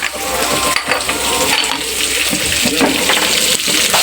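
Onions, peas, capsicum and other vegetables stir-fry together in a pan for semolina upma, giving a steady close sizzle with clinks and scrapes of a stirring spoon throughout.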